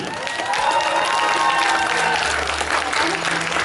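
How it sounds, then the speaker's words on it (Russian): Dense, continuous applause from a crowd at a Tuvan dance festival fills the room, with faint cheering mixed in throughout. "давайте проводим наших участников бурными аплодисментами"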